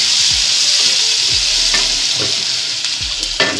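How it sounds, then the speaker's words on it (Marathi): Garlic paste sizzles and fries steadily in a hot pan on a gas stove while a spoon stirs it, scraping the pan in several short strokes against the constant loud hiss. "तर आपण हे जरा व्यवस्थितपणे याला मिक्स करायला लागलो आहे."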